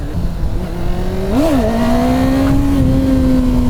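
Kawasaki ZX-9R sport motorcycle engine droning steadily while the rider pops small wheelies, with a brief rising rev swell midway before settling back to a loud, even pull.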